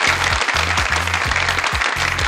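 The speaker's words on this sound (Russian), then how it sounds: "Дмитрий Евсюткин, ваши аплодисменты" Audience applause at a talent show greets a jury member, a dense, steady clapping wash lasting the whole stretch, with loud, rhythmic low musical stabs pulsing underneath.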